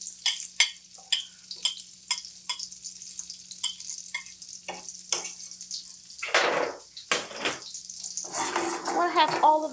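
Sliced garlic sizzles in melted butter and olive oil in a pan, a bright crackling hiss punctuated by stirring and clinks of cookware, with spurts of louder frying toward the end.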